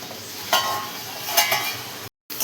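Raw tomato chutney stirred in a pan, a steady sizzle with a few louder scraping strokes near the start and middle, then a brief cut to silence before the sizzle returns.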